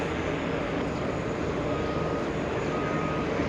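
An Alaska Airlines airliner at JFK airport gives off a steady, fairly faint engine rumble and roar, continuous and distant, with no talk.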